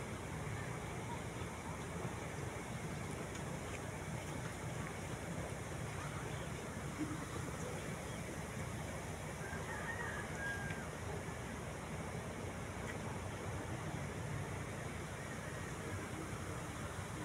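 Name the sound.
creek water flowing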